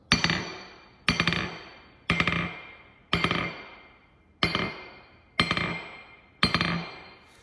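A 2-pound hammer strikes an 85-pound Holland anvil seven times at an even pace of about one per second, each blow a bright metallic ring that decays before the next.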